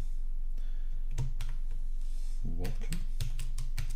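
Keys clacking on a keyboard hooked up to a Raspberry Pi running a homemade fake terminal, a string of quick close taps in uneven bursts with someone speaking over them.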